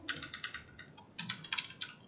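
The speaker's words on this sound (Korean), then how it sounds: "지금 습관처럼 계속 컨트롤 E를 누르고 있어요." Keyboard keys tapped repeatedly in quick bursts, a Ctrl+E shortcut pressed again and again out of habit during a web development coding lesson, close and crisp, alone with no voices.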